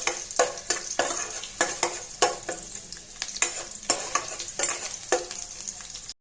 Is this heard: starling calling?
no